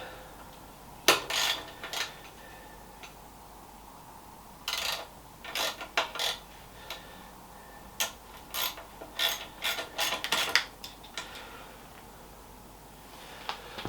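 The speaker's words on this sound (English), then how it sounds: "Oh, there's my socket wrench." A socket wrench ratchets in short bursts of quick clicks, close and fairly clear, with pauses between the bursts and faint clinks of metal tools in between.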